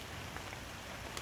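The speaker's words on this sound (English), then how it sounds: "I'm getting rained on." Rain falls outdoors at a site where old bottles are being dug up, making a steady, even hiss of drops hitting the ground throughout, with no voices.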